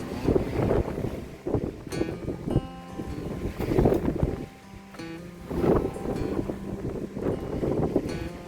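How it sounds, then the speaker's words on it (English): Strong wind buffets the microphone in loud, rumbling gusts that surge and ease repeatedly, with no talking. "It's a really windy day"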